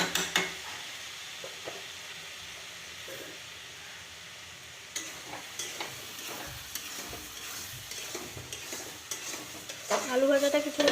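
Potato fry cooks in a pan, giving a soft, steady sizzle with scattered scraping and clinking of a spatula against metal and a louder stir near the end.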